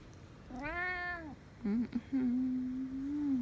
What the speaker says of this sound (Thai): เพราะว่ามีแมวมาอ้อน